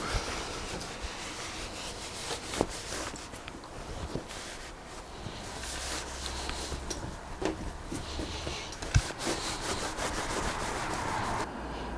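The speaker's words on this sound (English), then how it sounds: "get that wax polished off that stick for my sister" Steady rubbing strokes work wax off a wooden walking stick with a shaped handle, a soft, rhythmic, close-up friction sound with occasional light knocks and no talk.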